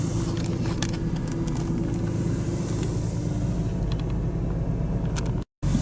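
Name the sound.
BMW M Coupe with S54 engine driving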